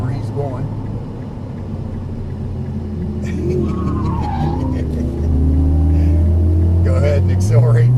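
A Nissan GT-R accelerating on a race track, engine rumble building steadily and growing louder, with rising whine and brief tire noise while people talk over it.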